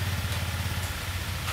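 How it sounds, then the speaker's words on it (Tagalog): A scooter engine idles nearby with a low, steady, pulsing putter that is fairly loud and unbroken. "Normal naman yung tunog ng kanyang motor"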